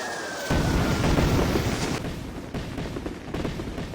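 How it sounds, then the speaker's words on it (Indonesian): A loud, rumbling blast opens the clip, followed by a sustained roar of crackling debris and noisy aftershock, with no voices. "granat itu pun langsung meledak"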